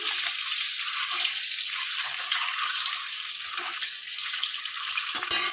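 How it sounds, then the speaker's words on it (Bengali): Desi chicken eggs sizzle in hot oil, a continuous near hiss with faint scraping and bubbling. Near the end comes a sharp knock. There is no talk. "এবার ডিমগুলো দিয়ে দিয়েছি ডিমগুলো একটু ভেজে নিই"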